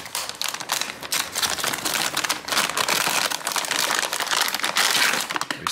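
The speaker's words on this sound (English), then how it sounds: "And we flip it over and peel off the tape." Packing tape being peeled off a cardboard box holding a Gigabyte RTX 4060 Ti Windforce graphics card, a dense, continuous crackling and crinkling rip that stays loud and close throughout, with no talking.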